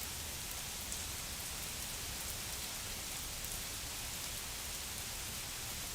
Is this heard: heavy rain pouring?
yes